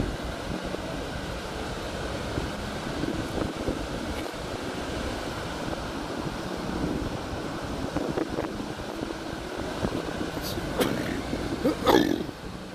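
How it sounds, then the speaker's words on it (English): Cold waterfall near Akureyri, Iceland, with heavy water coming down, gives a steady broadband roar mixed with wind buffeting the microphone, continuous throughout and louder toward the end. "There's a lot of water coming down through, and it's cold."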